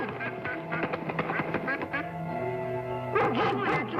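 A duck quacks repeatedly in quick, nasal calls amid what sounds like a dog's yips and whimpers, close and lively, in a 1957 television drama scene.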